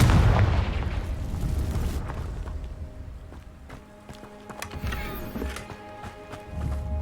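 A Confringo fire spell explosion in the Hogwarts Legacy video game, a loud burst and boom at the start decaying into rumbling debris and ambient game sounds, with another heavy thud near the end.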